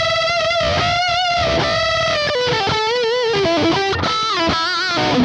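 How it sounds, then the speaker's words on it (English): Electric guitar played through a PRS MT15 lead amp profile with no effects, a loud close solo line of sustained, bending notes with a few quick runs, heard alone. "MT15 lead profile that sounds like this without any effects."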